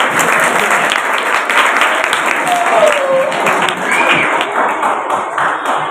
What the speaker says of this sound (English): Clapping for 8.